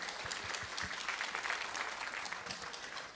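Audience at a laboratory safety week opening ceremony applauding, a steady dense patter of many clapping hands, moderately distant and uninterrupted.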